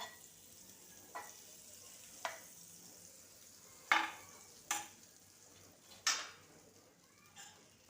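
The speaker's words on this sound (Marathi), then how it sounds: "यामध्ये आपण बटर घालून घेऊया सर्वप्रथम आणि हे व्यवस्थित वितळवून घ्यायचं आहे" Butter melting in a hot pan on a gas stove for pav bhaji, a quiet continuous sizzle broken by several sharp spatula scrapes and clinks against the pan.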